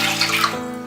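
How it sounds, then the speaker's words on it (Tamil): Water pours from a small pot into a kadai pan on the stove for cooking noodles, a short splashing gush that cuts off abruptly after about half a second. "நான் வந்துட்டு ஒரு செம்பு தண்ணி ஊற்றுறேன்"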